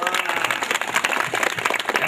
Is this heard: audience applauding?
yes